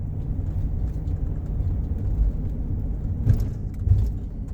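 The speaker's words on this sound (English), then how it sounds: "we've got a bus coming through" A bus drives down the middle of a road in Zion National Park, Utah, a low rumbling engine passing fairly close with a couple of louder thumps, no voices.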